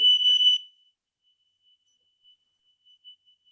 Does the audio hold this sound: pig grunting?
no